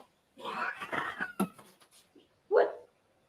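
A pet cat gives a short, close meow after a stretch of speech, with people talking beforehand.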